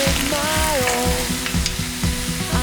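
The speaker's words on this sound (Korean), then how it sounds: "콩나물, 한번 볶아볼게요." Bean sprouts stir-fried in cooking oil sizzle loudly and steadily, with a rhythmic series of scraping stirs from a spatula and a thin high tone running over the frying, and no talk.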